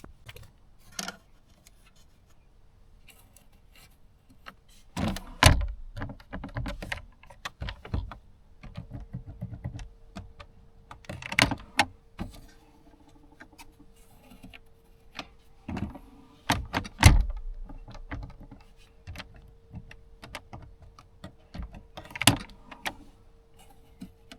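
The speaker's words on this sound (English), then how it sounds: "Make sure the door closes easily but at the same time holds firmly in place." A Mercedes CLK W209 glove box door is opened and shut several times, giving sharp plastic clicks and thumps spaced across a quiet interior, close and fairly faint, with no talking.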